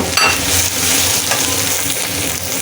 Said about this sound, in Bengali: মশলাটাকে এখন আবারও ভালো করে কষিয়ে নেব।